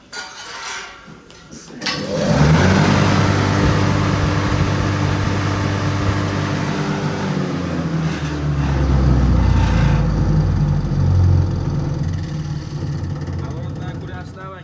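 A motor-driven machine starts up and runs with a steady, loud mechanical hum and rattle, a low drone rising and holding throughout.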